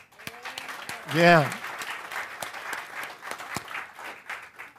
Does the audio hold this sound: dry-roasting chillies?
no